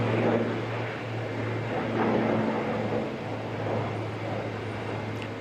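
A distant aircraft departing Auckland Airport, a steady low broadband roar with a faint tonal hum, holding at an even level throughout without talk.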